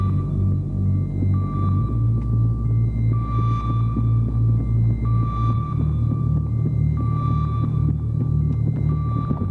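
High, steady ear-ringing tone after an explosion in the video game Battlefield 3, sustained under a low throbbing rumble with periodic beeping tones recurring throughout.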